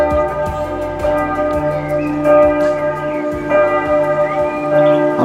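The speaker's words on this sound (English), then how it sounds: "Bells are ringing at the Notra-Dame Cathedral." Church bells of Notre-Dame Cathedral in Luxembourg City ring out loud and steady, several overlapping tones pealing in repeated strokes throughout, with no voices over them.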